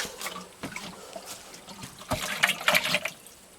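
A goat health mix of molasses and water is poured, with irregular liquid splashes and trickles, some sharp and bright, building toward a denser gurgling burst near the end.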